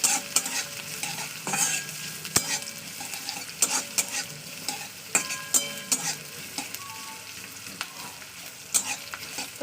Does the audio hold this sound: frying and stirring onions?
yes